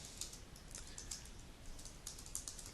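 Typing a note on a computer keyboard: quick, light key clicks in short irregular bursts, close and fairly soft over a faint background hiss.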